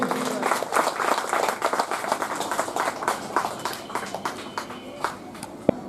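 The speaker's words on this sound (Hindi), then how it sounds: "ताली लगाइए।" Steady applause from a crowd at a Kali Puja event, many hands clapping densely throughout with a few sharper claps standing out near the end.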